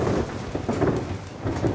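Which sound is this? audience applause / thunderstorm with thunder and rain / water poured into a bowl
thunderstorm with thunder and rain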